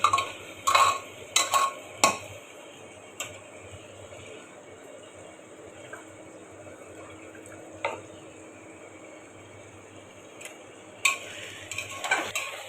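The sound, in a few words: stirring and frying mutton in oil in a pot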